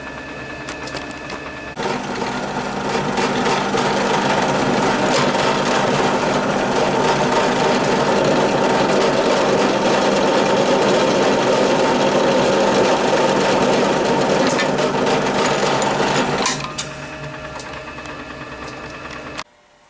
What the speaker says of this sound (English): set them up in the machine vise and just drill them